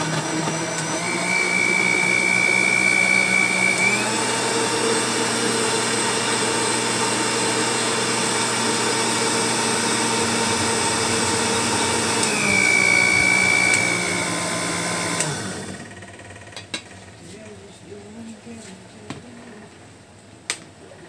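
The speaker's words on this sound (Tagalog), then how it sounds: "So i-blend na natin" A blender whirs loudly for fresh cocktail drinks at a New Year's celebration, its motor shifting pitch as the blades spin, running steadily for about fifteen seconds before cutting off, followed by a few light clinks.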